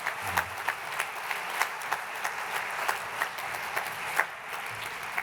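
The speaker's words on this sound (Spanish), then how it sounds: "Oye, un aplauso para esta clase de historia, por favor." An audience at a Girona gastronomy forum claps in a modest, fairly faint round of applause, with a few sharper individual claps standing out from the steady patter.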